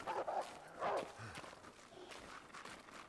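A dog barks a few times in The Long Dark survival game, a couple of sharp yaps early then softer movement sounds, fairly quiet and alone with no talk.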